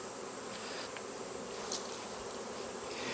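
Honey bees buzz densely around a capped honey frame pulled from a hive, a steady close swarm drone with no gaps and no voices.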